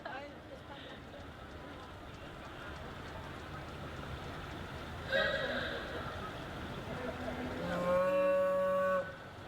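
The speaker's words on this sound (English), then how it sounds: "I heard a moo." A cow lowing at a Veterans' Day parade in Wichita, a single moo rising near the end over a busy outdoor crowd and traffic din, with people talking nearby.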